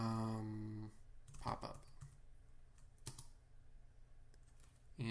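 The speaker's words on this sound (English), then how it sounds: "I'm going to type in front of this function" Computer keyboard typing while coding a jQuery function: a few scattered clicks and key taps under a steady hum, with brief speech at the start.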